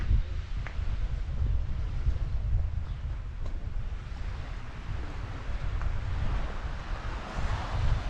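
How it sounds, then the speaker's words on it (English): Small waves lapping at a jetty in Puerto de Pollensa, Mallorca, make a continuous washing rumble mixed with a breezy wind buffeting the microphone, with no voices. "you'll hear the waves. They're only little waves, but they do make a lot of noise, these little waves."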